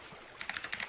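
Fast, light keystrokes on a computer keyboard for a Ctrl D shortcut in Android Studio, a quick cluster of about five soft clicks that follows a brief quiet pause, close and faint.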